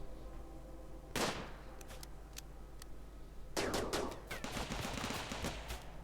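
Gun turrets and rifles firing in the Rimworld video game: an isolated shot, a few scattered cracks, then a dense run of rapid gunfire, fairly faint and distant with no talking.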